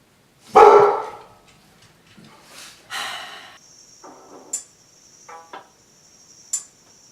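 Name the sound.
dog barking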